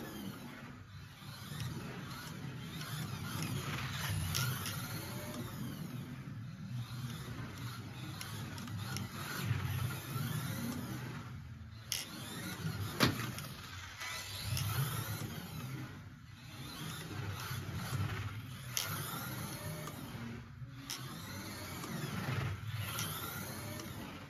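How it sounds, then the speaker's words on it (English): A LOSI Micro-B micro RC car drives on low pile carpet, its small electric motor making a faint, thin whine that rises and falls with repeated short bursts of acceleration and brief pauses. "This is a quick carpet, low pile carpet test with the Micro-B."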